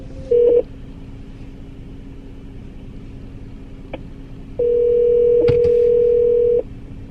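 A telephone call is placed: a short dial-tone blip, then a steady ringback tone lasting about two seconds, with a low constant hum underneath.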